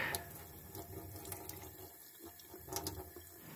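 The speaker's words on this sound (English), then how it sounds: "After 30 minutes, it's time to take everything out and give it a wash." Running tap water splashes over DPF cleaning parts (a blackened steel nail, stainless steel mesh and fibreglass insulation) being rinsed in a sink, a steady close wash with brief louder splashes and no talk.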